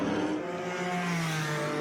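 A 1999 Panos race car at the Rolex Monterey Motorsports Reunion sweeps through a turn, its engine droning steadily at a sustained pitch with a faint tire squeal, loud and continuous throughout.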